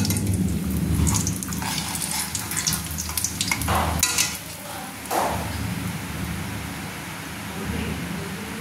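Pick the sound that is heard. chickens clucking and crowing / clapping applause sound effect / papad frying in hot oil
papad frying in hot oil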